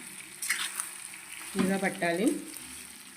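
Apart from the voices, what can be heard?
stirring tempering into chintamani chutney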